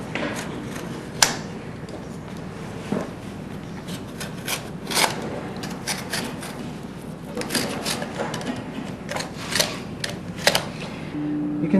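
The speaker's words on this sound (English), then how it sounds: "So what we're doing is cutting the fabric off of the shoe." A blade scores and cuts through glued fabric holding a horseshoe to a horse's hoof, giving close, steady rasping and scraping strokes with sharper ticks scattered throughout.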